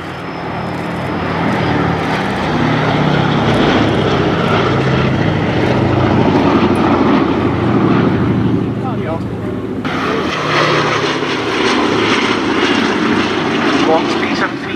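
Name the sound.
B-17 bomber aircraft flying at an airshow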